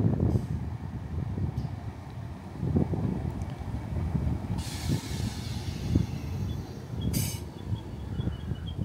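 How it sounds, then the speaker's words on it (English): A ScotRail service to Glasgow Central rolls into a suburban station on the Cathcart Circle with a steady low rumble, wind buffeting the microphone and two brief hisses of air brakes. No one speaks. "we're now waiting for the 1338 ScotRail service to Glasgow Central"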